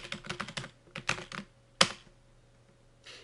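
Rapid bursts of keystrokes on a computer keyboard, close and clear, with a loud single key strike near the middle and a brief final flurry after a pause; no voices.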